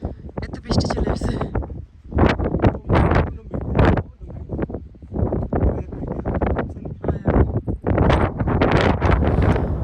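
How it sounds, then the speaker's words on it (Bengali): Strong gusts of wind on a high mountain outcrop in New York, with rain blown along, buffet the microphone in loud rumbling bursts, and a voice talks over the roar throughout. "বাতাসের গতিতে এত বেশি"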